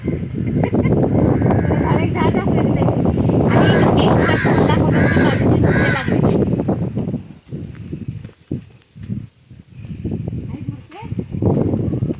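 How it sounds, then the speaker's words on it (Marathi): Crows caw repeatedly near a cashew tree in a rural village, their harsh calls rising over steady, close talking. "इतके कावकाव करतात की बोलायलाच येते"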